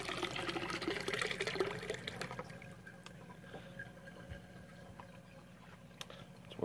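Water wells up from underneath and spills over in a small duckweed tank planted for water purification, a steady trickling pour that starts fuller and fades to a quieter running flow, close by and alone.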